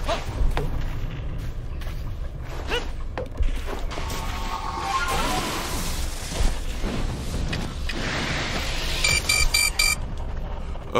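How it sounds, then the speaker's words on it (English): Alarm in the Pokémon Legends: Arceus video game, a busy stretch of loud electronic game sound with booming hits and bursts of rapid high beeping near the end, no speech. "Thank you, video game, for giving me that terrifying alarm."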